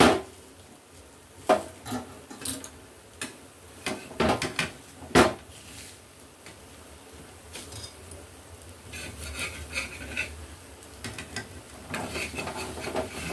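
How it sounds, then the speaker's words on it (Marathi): A spoon stirs and scrapes a besan bhurji mixture in a pan, giving a series of sharp clinks and knocks at first, then softer continuous rubbing and scraping, close and fairly quiet. "आता चमच्याने आपण हे मिक्स करून घेणार"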